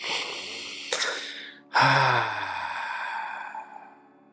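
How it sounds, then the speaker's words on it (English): A slow, deep breath drawn in through the nose, then a longer, louder breath pushed out through the mouth and fading away, heard up close during a yoga session. "Take a nice big inhale through your nose and exhale out your mouth."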